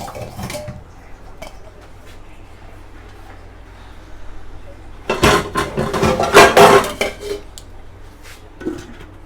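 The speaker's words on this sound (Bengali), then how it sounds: "এবার যাবে এর ওপর একটা ঢাকা দিতে হবে" Metal lid placed over a cooking pot in a home kitchen, a cluster of clattering metallic clanks and scrapes midway through, fairly close, over quiet background.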